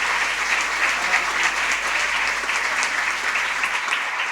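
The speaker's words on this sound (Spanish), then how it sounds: "Ese aplauso a nuestro Rey" Steady, loud applause from a large crowd at a national religious retreat in Argentina, sustained clapping without pause throughout.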